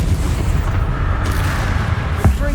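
Bombarda and Confringo spell blasts in Hogwarts Legacy rumble as heavy, overlapping booms, a dense continuous roar with a sharper burst near the end.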